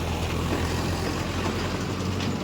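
A Mahindra Yuva Tech+ 585 tractor pulling a rotavator, its diesel engine a loud, steady, close rumble with dense mechanical noise throughout.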